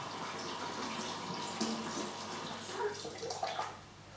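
Tap water pouring into a plastic wine kit fermenter as it nears 23 litres, a steady rushing splash with small gurgles, moderately close and fairly quiet.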